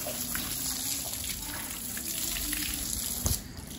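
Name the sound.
motor pumping well water gushing out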